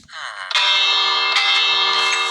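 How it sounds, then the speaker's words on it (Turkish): A doorbell in Minecraft rings with a bright, ringing chime that sustains, a synthetic bell-like tone that swells once and then holds steadily, loud and close. "evin girişine şöyle bir zil yaptım bakın"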